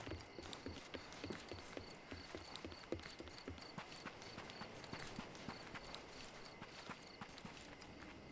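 Horse hooves clip-clop steadily on a street in a Sherlock Holmes adventure video game, a moderately faint, even rhythm over low ambient noise, with no talking.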